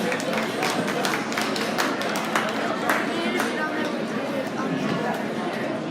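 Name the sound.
audience applause at livestock show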